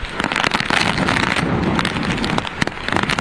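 Storm-damaged ceiling and shed debris falling during a cyclone, a loud continuous crackling and rattling clatter mixed with roaring wind noise buffeting the microphone.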